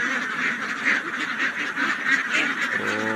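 A flock of domestic ducks quacking repeatedly at close range, overlapping calls in an uneven rhythm with no voices over them.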